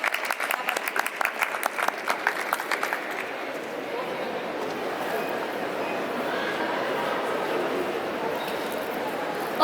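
An audience applauds author Jorge Calvo at a book launch for his novel La Partida at Filsa 2023, with sharp individual claps at first, then a steady, dense wash of clapping that carries on evenly to the end.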